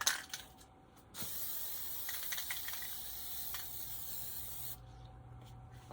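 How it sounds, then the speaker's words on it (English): A spray paint can hisses in a long continuous burst after a short initial spurt, fairly close, with a few faint clicks and taps around it. "I'm going to take it outside and spray it."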